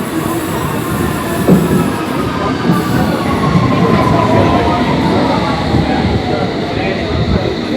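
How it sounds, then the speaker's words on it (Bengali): A London Underground tube train pulls into a station with a steady, loud rumble and faint wheel squeal running the whole time. "এদিকে ট্রেন চলে এসছে, তাড়াতাড়ি চল, চলো চলো ওঠো তাড়াতাড়ি।"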